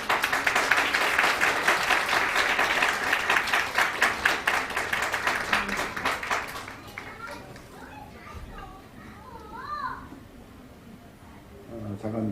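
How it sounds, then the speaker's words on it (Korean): A church congregation applauds to welcome the preacher at a 20th-anniversary ordination service, steady clapping and cheering from a crowd that fades out into quiet voices. "우리 나오실 때 힘찬 박수로 모시겠습니다"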